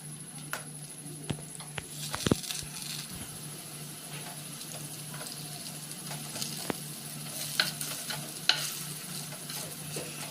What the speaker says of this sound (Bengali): কারণ অল্প তেল দিয়ে ভাজা হচ্ছে